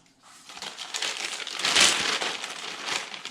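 Close crinkling and rustling of a heavy-duty plastic grocery bag being cut and crumpled, building to a loud crackling peak midway and then continuing in smaller rustles, with no talk.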